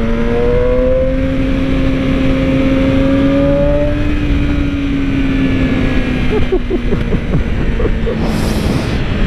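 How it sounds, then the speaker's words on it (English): A supersport motorcycle engine hums loudly with a steady tonal drone that rises slightly in pitch, close and continuous, with a brief rattle near the end. "Just listen to the engine, look."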